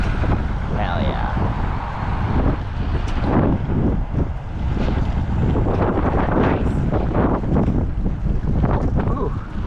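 Gusty outdoor wind in Alaska buffets the microphone with low rumbling bursts, loud and uneven throughout, while people talk and move nearby.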